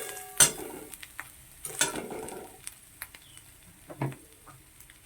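Food sizzles in a frying pan, with a few sharp bursts of stirring and scraping spaced a couple of seconds apart. Between them a softer sizzle continues, close and fairly quiet.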